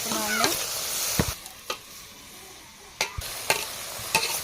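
A spoon scrapes and clinks while stirring an eggplant, tomato, green chilli and onion curry in a pan, with a soft sizzle beneath several distinct knocks spread across the moment.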